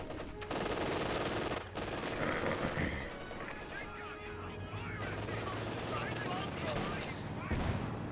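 Machine gun fire in the World War II strategy game Company of Heroes 2, with a dense stretch of rattling automatic bursts amid distant battle noise, layered under continuous commentary.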